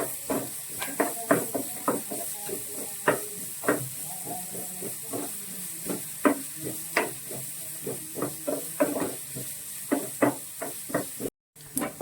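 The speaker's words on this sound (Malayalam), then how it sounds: "ഇനി നമുക്കിതിലേക്ക് നമ്മുടെ ചോപ്പ് ചെയ്ത് വെച്ചിരിക്കുന്ന ഒനിയൻ ചേർത്ത് കൊടുക്കാം. നന്നായിട്ട് സോട്ട് ചെയ്യണം." Chopped onion sautéing in a pan for paneer butter masala, a steady sizzle beneath repeated sharp knocks and scrapes of a spoon stirring against the pan, close and rhythmic, with no talking.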